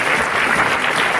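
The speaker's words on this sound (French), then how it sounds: "vous pouvez l'appeler, l'applaudir" A cinema audience at a film festival Q&A applauds loudly as guests are called up, a thick continuous roar of many hands clapping, close and steady throughout.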